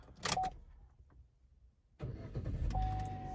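A Chevy Malibu starts after a new flip key is programmed: a quiet interior pause, then the engine cranks and catches into a steady idle with a faint electronic tone, recorded close inside the car.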